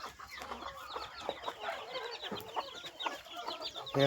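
Country hens cluck continuously at close range, a busy overlapping chatter of short calls with no pauses, and no one talks.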